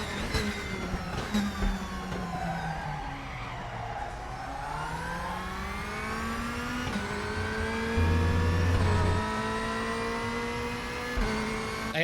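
A BMW M4 race car in RaceRoom howls at high revs, its pitch falling on a downshift then climbing steadily through acceleration, with brief tire scrubbing and a loud, continuous close-up engine note.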